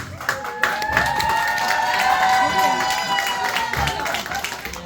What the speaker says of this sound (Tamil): உங்களுடைய கரகோஷத்துக்கு நன்றி